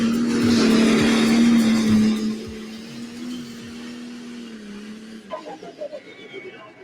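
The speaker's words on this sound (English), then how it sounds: "NTPA Grand National Pulling Action is coming to Farley, Iowa." Tractor pulling engines at an NTPA Grand National pulling event at a raceway in Farley, Iowa, roar loudly and then fade. A voice comes in at the end.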